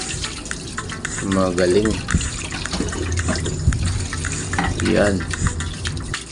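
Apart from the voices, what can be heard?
water running from a tap while washing hands and a cup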